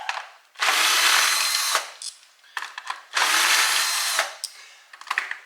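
A power ratchet removes 10 mm bolts from a 2008 Nissan Altima during a coil replacement, buzzing loudly up close in two long whirring runs, each followed by short ratcheting clicks.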